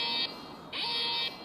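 A phone alarm notification, triggered by a van alarm sensor, sounds as two piercing electronic beeps of roughly half a second each with a short gap between them, loud and alone with no talk.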